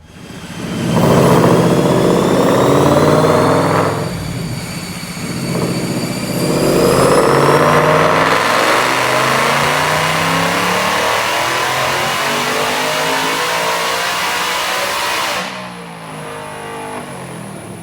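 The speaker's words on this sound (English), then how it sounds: "But first, check out this dyno pull." A 2022 Mustang GT with a Whipple supercharger roars through a dyno pull, the engine revving up hard with a rising whine, dropping briefly at a shift, then climbing again before easing off near the end, loud and close.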